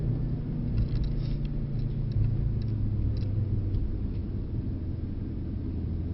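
A Mercedes C63 S E on a track gives a steady, deep engine rumble as it accelerates back onto the power, heard from inside the car as a continuous drone.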